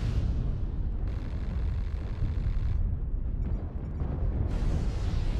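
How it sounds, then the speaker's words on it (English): Heavy artillery strike explosions in MechWarrior Online, a run of deep rumbling booms that rolls on for several seconds with sudden shifts in intensity and no talking. "Artillery strike online."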